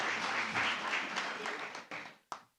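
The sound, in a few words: audience applause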